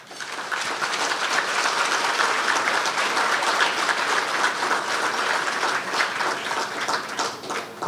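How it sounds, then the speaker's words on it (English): Rousing applause from the crowd at a New Year Grand Gala in 2018: loud, continuous clapping that holds steady for about eight seconds with no talk over it. "I want you to give a rousing applause to the Honorable Lisa Renee Hanna."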